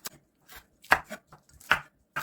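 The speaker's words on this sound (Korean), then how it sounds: "빨간 고추도 좀 썰어 줄게요" A knife chopping green chili peppers on a cutting board for a pollock fish stew, a handful of sharp, close, uneven cuts with short pauses between them.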